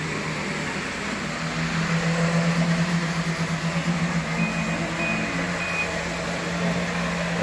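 A self-driving robot vehicle moving on its own gives a steady mechanical hum with a tonal whine and brief beeping tones, fairly loud and continuous, with no talk.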